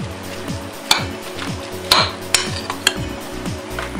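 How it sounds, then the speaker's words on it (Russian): Herring salad with potatoes being gently stirred in a bowl, with repeated soft scraping strokes about every half second and a few sharp clinks of a utensil against the dish, close and fairly quiet, no talking. "Аккуратно перемешиваем наш салат, чтобы он не получился как размазня."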